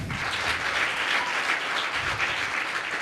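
Steady audience applause at an event hosted by Sri Prakash for a guest, many hands clapping evenly throughout with no voices over it, moderately loud and continuous.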